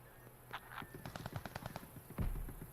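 Rapid bursts of automatic gunfire ring out in a Call of Duty match at a contested hard point, followed by a heavier blast, loud and continuous over game sounds.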